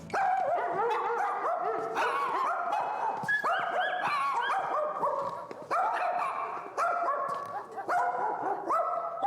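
Several dogs bark and yip in quick, overlapping bursts, fairly close, with some whining between barks.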